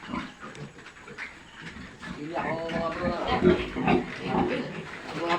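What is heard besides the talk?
boar pig grunting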